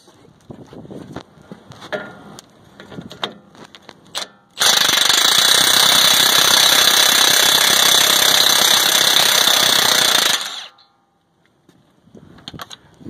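An impact gun loosens a 21 mm nylon lock nut on the tie rod of a 2011 RAM 3500 dually 4x4, hammering loudly and steadily for about six seconds, with quieter shop clatter before and after.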